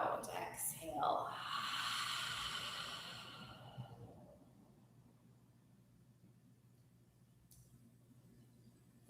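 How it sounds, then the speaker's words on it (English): A person takes a deep breath, a long airy inhale and exhale close to the mic lasting a few seconds, followed by near silence. "Breathe in. Breathe out. Exhale."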